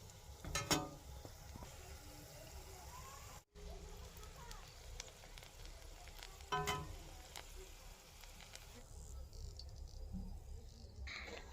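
Potato rolls fry one by one in moderately hot oil in a wok on medium heat, giving a faint, continuous bubbling sizzle with a few brief clinks and crackles, quiet and close.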